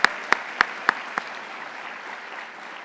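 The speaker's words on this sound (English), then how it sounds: "So let's give them a round of applause." Audience applause at an evening talk event, opening with a few loud, distinct claps that quickly blend into a steady, moderate wash of clapping from the crowd.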